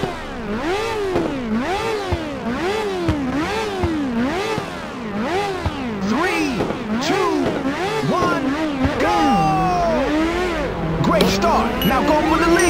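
Race cars in the PSP game Ridge Racer rev their engines at the start, rising and falling revving repeated rhythmically, then a climbing acceleration, loud and near.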